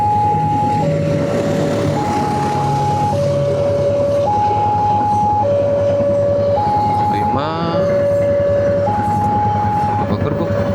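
A KAI passenger train passing with its carriages: a steady low rumble under a repeating two-tone warning signal that alternates high and low, with a voice talking over it.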